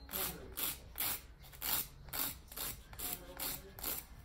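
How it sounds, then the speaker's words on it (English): A nail file rasping across the free edge of a fingernail in quick, even back-and-forth strokes, about nine soft scratches, close and faint. "Now I'm going to go ahead and file the free edge"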